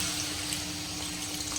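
Water poured into a pot of vegetable curry after the spiced masala has been fried, giving a steady, continuous wash of pouring and splashing liquid at moderate level with no talk over it.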